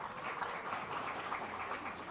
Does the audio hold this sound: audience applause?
yes